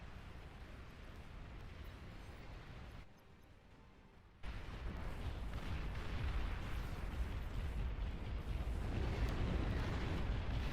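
A commander unit exploding in the strategy game Beyond All Reason, heard as a faint, low, rumbling blast that dips briefly, then swells into a heavier sustained roar.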